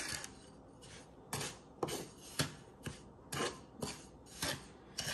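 A spoon scrapes around a pot while homemade pineapple jam is stirred, giving roughly ten rhythmic, rasping strokes, fairly close and unaccompanied by talk.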